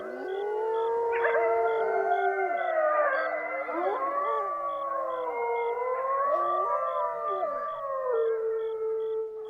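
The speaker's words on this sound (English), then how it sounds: "when they leave to go hunting, and when they come back, they do a chorus howl" A chorus of wolves howling together, several long rising and falling voices overlapping and sustained throughout.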